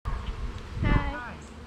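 Bees buzz steadily throughout, with a person's voice briefly speaking over the hum partway through.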